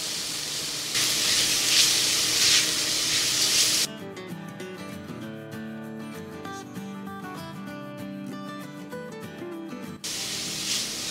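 Chopped onion sizzles in a pan for a vegetable and bean soup, a steady bright hiss that gives way to music partway through before the sizzle returns at the end.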